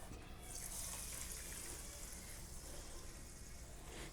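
Steady rushing splash of water pouring into a pot with sugar for jalebi syrup, continuous and close, running for several seconds without pause.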